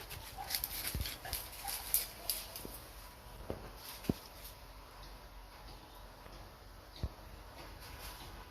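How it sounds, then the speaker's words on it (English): Dog on a hunt outdoors, sharp barks spaced irregularly over a steady background hiss, some loud and close, others fainter. "they had a dog barking and they are about going there to check"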